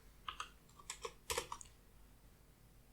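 A few close, quiet keystrokes on a computer keyboard, clustered clicks tapping out a short word and then stopping, with soft room hiss and no speech.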